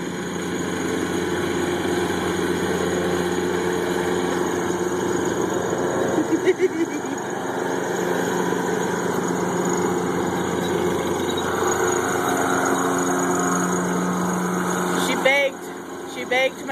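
A riding lawn mower's small engine drones steadily while cutting a backyard lawn, heard at moderate distance with a constant mid-pitched hum and slight fluctuations, a voice talking intermittently over it.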